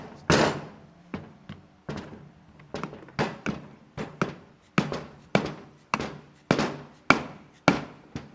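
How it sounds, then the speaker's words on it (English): Repeated hammer blows knock loose a seal on a CFMOTO differential during teardown, a dozen sharp metallic thuds in a steady rhythm, loud and close with ringing decay between strikes. "We knock that seal loose."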